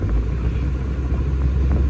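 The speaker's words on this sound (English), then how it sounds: "I'm revving it so it could heat up because it's still cold as hell" A cold Honda Integra DA9 engine warming up, a low steady rumble with slight swells in revs, heard up close and alone.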